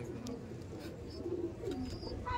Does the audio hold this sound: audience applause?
no